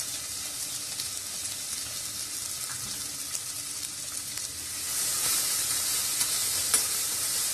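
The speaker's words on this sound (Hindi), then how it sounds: "अब प्याज को अच्छे से भुनने दूंगी" Onions frying with salt in a pan for chole, a steady close sizzle throughout that grows louder and brighter partway through, with no one speaking.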